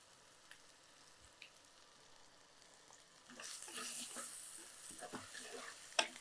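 Ingredients sautéed in a pan while cooking a village-style urad dal kuzhambu, a low steady sizzle that swells louder midway with scattered stirring clatters and scrapes, no talking.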